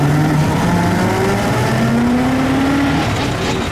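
A 1905 Mitchell D2 antique car drives along with a steady, loud engine drone and rising, shifting tones throughout, close and continuous with no talking.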